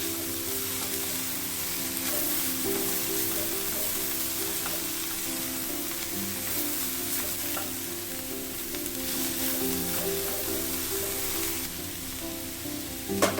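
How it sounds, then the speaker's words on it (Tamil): Cabbage poriyal with grated coconut sizzles and fries steadily in a pan as it is stirred, a constant close crackle with faint scrapes of the spoon, no voices. "தேங்காய் துருவல் போட்டுட்டு ஒரு 2 நிமிஷம் அப்படி கிண்டிடுங்க போதும்."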